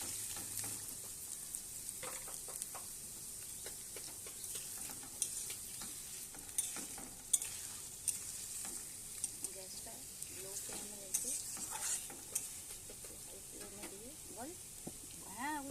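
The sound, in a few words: onions being stirred and fried in a pan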